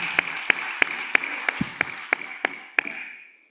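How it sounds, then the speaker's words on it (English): Applause from a conference audience at an ECA committee meeting, a steady wash of clapping with several sharper individual claps standing out, tapering off over a few seconds. "Please give him a round of applause as he comes up."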